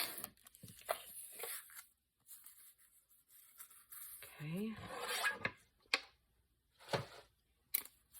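Paper is trimmed from the edge of a craft page, giving scattered rasping, scraping strokes and soft rustles at close range, separated by short quiet gaps, with a brief voice murmur midway.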